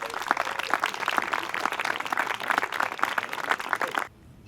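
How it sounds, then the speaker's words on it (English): Dense audience applause at a talk event, many hands clapping steadily for about four seconds before stopping abruptly into a quiet room. "Big round of applause."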